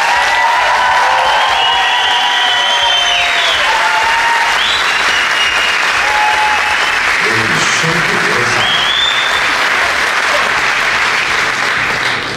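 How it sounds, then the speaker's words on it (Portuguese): Warm, sustained applause from a crowd at a business breakfast held by a commercial association in Sorocaba, loud and continuous for over ten seconds, with faint cheers and whistles mixed into the clapping. "vamos receber com a calorosa salva de palmas"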